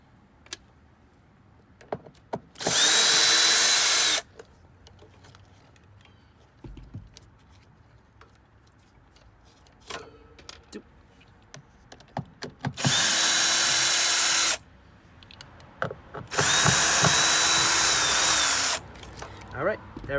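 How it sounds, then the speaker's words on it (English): A power drill spins out the screws holding the water pump of a mobile grooming van, with three loud, steady whirring bursts of a few seconds each, separated by clicks, handling noise and brief talk. "Take your drill."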